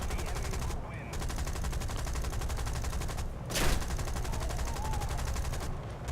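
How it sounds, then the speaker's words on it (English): Rapid bursts of heavy cannon fire roar continuously in the video game War Thunder, with one sharper blast standing out midway. "I really don't like being shot at with cannons."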